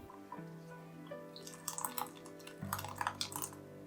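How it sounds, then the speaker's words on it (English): Warm homemade hot sauce is poured through a funnel into a bottle, giving a rising gurgle and trickle with scattered drips and clinks of glass, close and fairly quiet. "pour the sauce into them while it is still warm"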